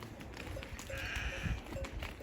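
A sheep bleats faintly in the distance over soft outdoor background noise, one drawn-out bleat in open countryside.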